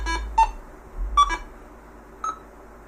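Minelab Go Find 60 metal detector giving short electronic beeps as it powers on: a cluster of quick tones, a pair of beeps near the middle, then a single softer beep, close and clear over quiet background.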